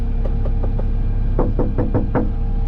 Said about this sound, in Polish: puka do drzwi